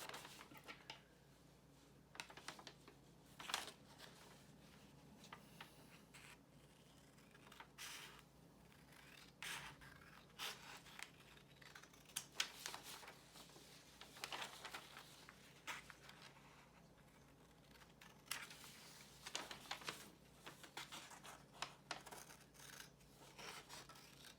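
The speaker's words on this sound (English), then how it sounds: "grab a pair of scissors and cut out the whole" Scissors cut out paper model rocket parts, with intermittent rasping snips and rustling paper handled close by, in short bursts separated by quieter pauses.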